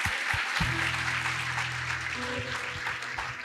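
A church congregation applauds at a worship service for athletes, a steady wash of clapping heard under sustained organ or keyboard tones, with a few louder individual claps.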